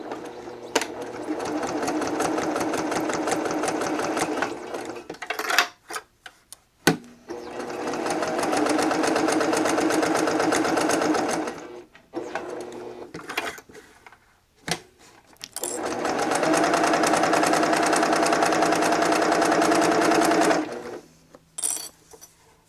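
A sewing machine stitches a quarter-inch seam on a small fabric bookmark, running in three long steady bursts of rapid mechanical whirring with brief pauses and small clicks between them.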